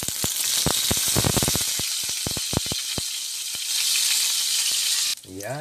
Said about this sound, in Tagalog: Luto na ang ating skinless longganisa.